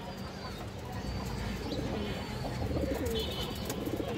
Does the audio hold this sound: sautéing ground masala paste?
no